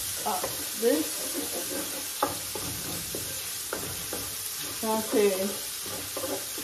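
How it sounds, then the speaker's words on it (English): Celery sautés in a pot with a loud, continuous sizzle and hiss, while a spoon stirs and scrapes through it in irregular bursts. "Guys, this is celery. I usually just saute this when I'm doing it."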